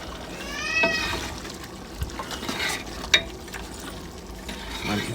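Water is stirred into a large hotel-style chicken curry gravy cooked for thirty people, making a wet scraping and swishing under a soft, steady sizzle, with a few sharper knocks of the ladle and no clear speech.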